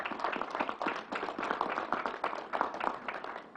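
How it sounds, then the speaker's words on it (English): A crowd claps in sustained, dense applause for state commissioners at a New York State Fair announcement, steady and fairly loud throughout with no voices over it. "let's give Commissioner Ball and Troy a big round of applause for their good work"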